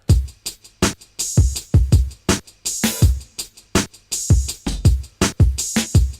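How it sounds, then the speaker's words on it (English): An open hi-hat with a live, acoustic character washes over a looping hip-hop beat, its bright sizzle recurring on the offbeats above thumping kicks and bass, prominent and without speech. "And then the other one was more of like a live hat."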